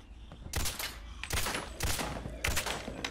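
Bursts of rapid automatic gunfire in the game Fallout 4, three or four loud volleys separated by short gaps, with no talk.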